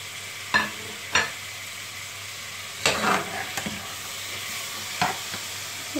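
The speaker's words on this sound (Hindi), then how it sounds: "अब टोमेटोज डाल के अच्छा खासा भून लें." Tomatoes frying with spices in a pot for beef curry, with a steady low sizzle broken by several sharp scraping stirs of a spoon, close up and with no talking.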